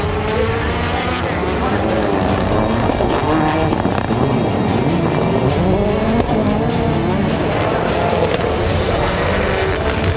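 Subaru rallycross race cars battling at the X Games, engines roaring steadily with tire noise as they race close together, loud and continuous, with an announcer's commentary running over the engines.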